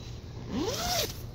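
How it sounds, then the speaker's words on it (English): A zipper on a Wenzel Klondike 8-person tent is drawn in a single smooth pull lasting under a second, close and fairly loud. A faint low hum sits underneath, and no one speaks. "About these zippers."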